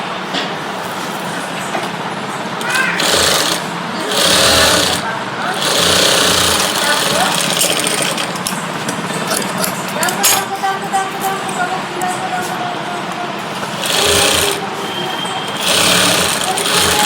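A sewing machine stitches a heavy maggam work blouse with beads along the fabric. It runs in several short motorized bursts of rapid clattering, with pauses between runs over a steady background hum.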